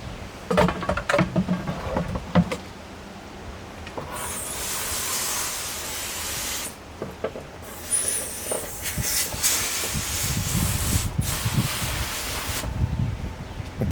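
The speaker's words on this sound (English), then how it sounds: "Tommy's going to go ahead and hose that lip down before he puts it on" A garden hose sprays water onto the lip of a Jandy pool filter lid in two hissing bursts of several seconds each, separated by quieter handling clatter and shuffling.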